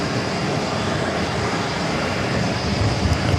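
Steady broadband roar of a CRJ regional jet rolling toward runway 4 left at JFK airport, a constant loud engine wash with no clear rise or fall and no talking.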